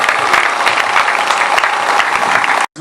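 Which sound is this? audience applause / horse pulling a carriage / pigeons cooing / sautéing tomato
audience applause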